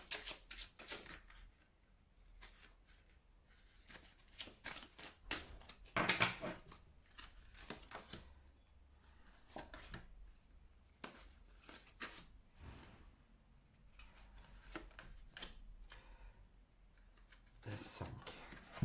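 Tarot cards shuffled and handled in short papery bursts, close and fairly quiet, with gaps of near silence between riffles.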